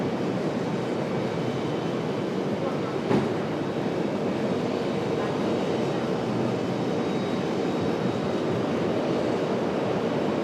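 Delta Airbus A220-300 jet departing, heard as a steady, broad roar that holds at an even loudness throughout, with one brief sharp click near the middle.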